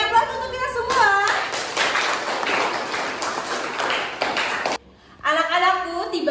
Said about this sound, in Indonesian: Oke, beri aplaus untuk kita semua.